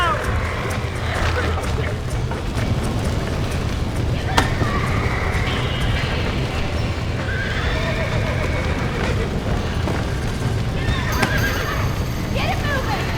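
Horses in the game Red Dead Redemption neigh and whinny over steady clip-clopping hooves amid a dense, noisy scene, with voices mixed in throughout.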